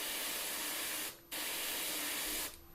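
An airbrush sprays paint in a steady, close hiss of fine mist, cut by two brief pauses in the spray as a colour gradation is laid down.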